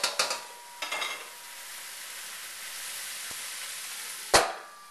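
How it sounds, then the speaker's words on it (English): Jumbo prawns stir-fried with ginger and green onions in a pan give a steady sizzle, with a few sharp utensil clacks and scrapes against the cookware standing out near the start and end. "After you stir fry this a little bit,"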